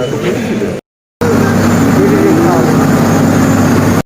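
Steady low aircraft engine drone inside a plane cabin after boarding, loud and continuous, broken by a short silent gap near the start.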